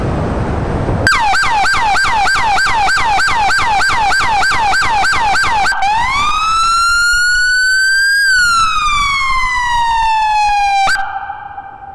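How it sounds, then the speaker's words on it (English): A Florida Highway Patrol Dodge Charger R/T Hemi pursuit car blares its siren loudly up close, first a rapid yelping pulse, then a long rising and falling wail, before cutting off. "LT is gonna hit the siren, and then we're gonna put up on the screen what siren does what"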